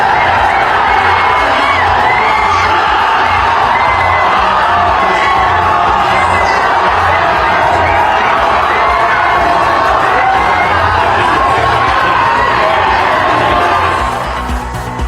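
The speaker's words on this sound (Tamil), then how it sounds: "சென்னை, கோவை உள்ளிட்ட இடங்களில் இந்திய அணியின் வெற்றியை கொண்டாடிய ரசிகர்கள்." Crowds of fans in Chennai and Coimbatore celebrate India's team victory with loud, continuous cheering, whoops and high shouts blending into one sustained roar.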